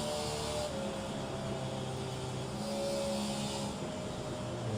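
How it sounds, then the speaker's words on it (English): A race car in the HORL Buschwackers Series at Kansas Speedway feathers the throttle entering turn 3, a steady mid-distance engine drone with slight rises and easings in intensity. "You can hear Hassel getting out of the throttle. In the turns, feathering the throttle."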